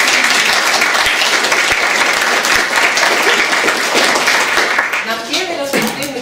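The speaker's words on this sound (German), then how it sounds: "einen Applaus für unsere Servicekräfte" Dense audience applause for the service staff at a literary dinner event in a community hall, steady and loud for about five seconds before thinning into scattered claps and a few voices near the end.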